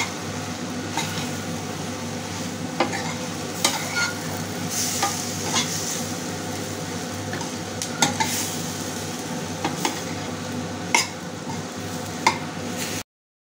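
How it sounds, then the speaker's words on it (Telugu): Sesame seeds frying with chilli chicken in a pan give a steady, close sizzle, broken by repeated scrapes and clinks of a stirring spoon against the metal. "వేసుకొని వేయించుకోవాలి."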